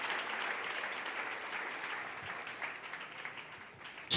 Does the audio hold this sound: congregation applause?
yes